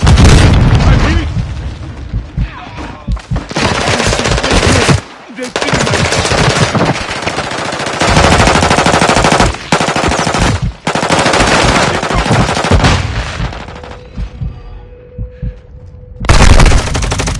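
Call of Duty MWII gameplay with sustained LMG machine-gun bursts and heavy explosions, loud and dense, broken by brief pauses, with a voice talking over the firing near the start.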